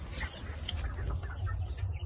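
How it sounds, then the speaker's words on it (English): Seven hens and a rooster in a coop clucking softly amid steady low barnyard noise, with a few brief bird calls scattered over the continuous background. "Seven hens in here and one rooster."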